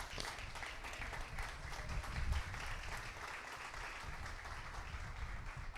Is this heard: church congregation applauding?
yes